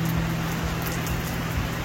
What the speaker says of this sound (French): c'est notre Sacha qui plie la bâche toute mouillée sous la pluie là-bas